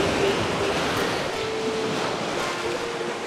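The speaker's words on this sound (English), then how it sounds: "Look at the waves coming in here though." Ocean waves roll in at Turtle Beach, a beach of ground-up shells with turquoise water, heard as a steady, broad wash of surf at moderate distance with no talking.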